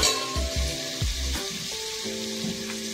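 Mutton fries in hot oil with onion and turmeric powder in a pot, a steady close sizzle with a few dull knocks of pieces and stirring early on.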